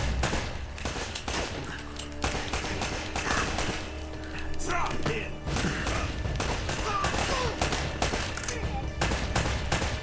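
Enemy gunfire in the video game Uncharted: dense, continuous bursts of shots and thuds packed across the whole stretch, loud and busy, with excited talk mixed in at times.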